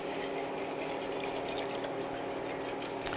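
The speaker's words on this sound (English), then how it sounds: "So here we have a hot roux and we have cold milk. This is whole milk. Just pour slowly." Cold whole milk is poured slowly into a hot roux for béchamel, giving a steady, continuous liquid rush and faint sizzle throughout, close and even, with nobody talking.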